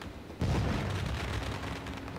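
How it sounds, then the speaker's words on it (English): Fireworks boom and crackle in the background of a sim racing video game, a sudden loud burst followed by a dense, continuous rumble of bangs lasting the rest of the moment. "talk to him right now as you hear the fireworks in the background going off"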